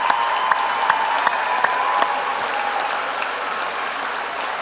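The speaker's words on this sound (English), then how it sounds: "Please give our thesis students a warm round of applause." An audience at an evening recognition ceremony gives thesis students a warm round of applause, with dense, sustained clapping from a large crowd that holds steady and then eases slightly.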